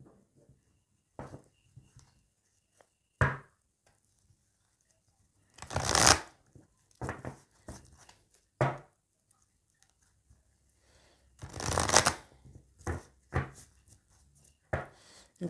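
Secret Emerald oracle cards being shuffled, with several separate bursts of riffling and flicking cards, two of them louder and longer, between quiet gaps and soft handling.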